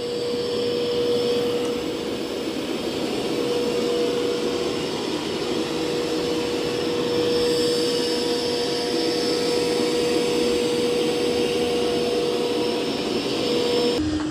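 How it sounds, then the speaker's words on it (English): Dreame X50 Ultra robot vacuum running over a rug indoors, a steady loud motor whine and airflow roar with a constant high tone, continuous throughout with no voices. "It's doing a really good job vacuuming this rug."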